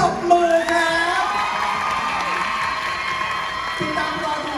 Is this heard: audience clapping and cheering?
yes